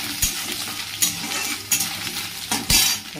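Chopped coconut frying in a pan while being stirred, a steady sizzle broken by several sharp scrapes and clinks of a spatula against the metal.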